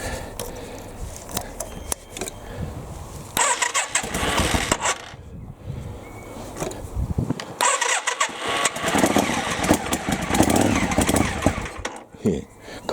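A trike's rebuilt motorcycle engine, cold, is cranked, catches and settles into a loud, uneven idle, with a brief cut and restart partway through; someone speaks over it.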